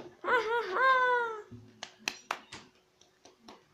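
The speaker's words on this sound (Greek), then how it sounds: "Μπράβο, χειροκροτάμε για σένα, Τζον." A voice gives a long wailing cry, then several sharp, scattered hand claps follow, close and fairly loud, spaced unevenly at the end.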